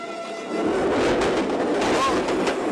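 A train rushing past nearby, a steady loud rumble with rattling and clatter throughout.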